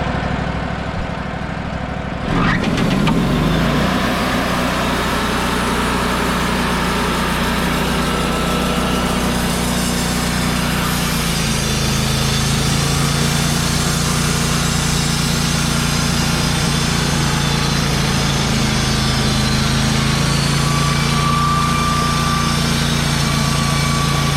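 A sawmill steadily slices a chestnut log, left sitting for two years, into thick 9/4 slabs, a constant engine drone with a shift in pitch as the blade bites, loud and continuous without voices.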